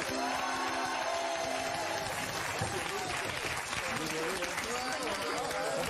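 Studio audience applauding on a TV quiz show, dense sustained clapping throughout, with voices talking over it.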